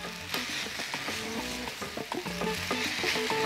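Mushroom and tomato pasta is stirred in a hot pan, giving a steady sizzle with scraping stirs over about three seconds, with tonal background music underneath.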